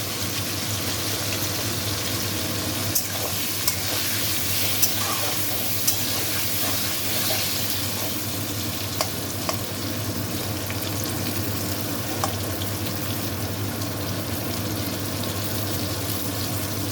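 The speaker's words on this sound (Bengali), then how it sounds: "পটল ভাজাগুলো দেখুন একটু লাল লাল হয়ে এসেছে" Pointed gourd slices fry in oil in a pan, a steady continuous sizzle with occasional small pops and crackles, heard close and alone throughout.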